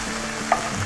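Ground meat browns in a pan and crackles close up while a wooden spoon breaks it apart, giving a steady sizzle and one short scrape.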